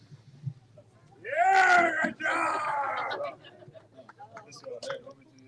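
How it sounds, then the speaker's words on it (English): A crowd at a race finish cheers and shouts in a loud, sustained burst lasting a couple of seconds, then drops to scattered voices and calls. "a big applause for Elliot Wade Wrangler!"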